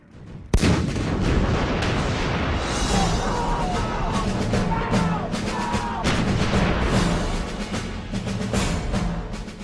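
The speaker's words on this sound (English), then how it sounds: "British and American troops began a massive artillery barrage onto the Iraqi positions in front of them." A massive British and American artillery barrage on Iraqi positions in the 1991 Gulf War, opening with a sharp blast and then rolling on as a dense, continuous roar of firing and rumbling detonations.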